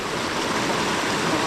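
River water runs in a steady, broad rush close by, a constant wash of flowing water filling the short moment without any speech.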